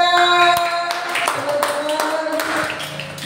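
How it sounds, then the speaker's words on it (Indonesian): Several people clapping their hands indoors, sharp uneven claps over a steady background hum, with some voices present. "Tepuk tangan."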